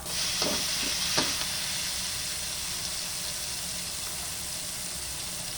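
Onions frying for mongo, a steady bright sizzle in a hot pan, with a couple of quick stirring scrapes at the start before the hiss carries on evenly and alone.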